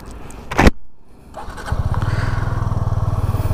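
Suzuki V-Strom 250 motorcycle engine cranking briefly and catching, then settling into a steady, loud, pulsing idle close by, with no voices.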